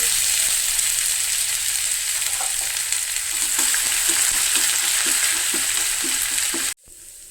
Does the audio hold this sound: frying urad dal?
yes